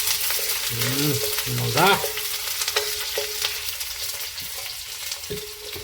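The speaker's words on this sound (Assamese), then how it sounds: "পিঁয়াজ আৰু ৰচুন লৰাই দিব লাগিব" Onion and garlic sizzle steadily in hot oil as they are stirred, with scraping strokes against the pan, close and loud, and a voice speaks briefly.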